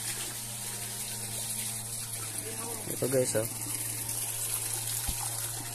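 Spring water flows steadily from an outdoor spring used for washing and bathing, a continuous gushing stream close by, with a louder splashing burst midway and someone speaking briefly over it.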